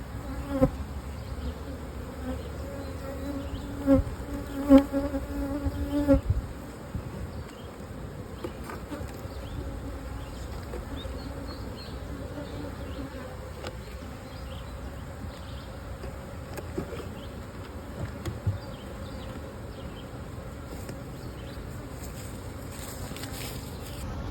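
Steady, dense buzzing of a full honey bee colony in a single brood chamber fills the whole stretch, close and continuous, with a few louder bursts near the start.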